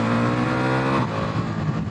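A 2024 Ducati Multistrada V4 S Grand Tour motorcycle engine revs hard and close, a sustained throaty roar that shifts pitch partway through as the throttle changes.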